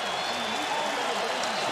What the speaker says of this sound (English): Isco being applauded off to start with.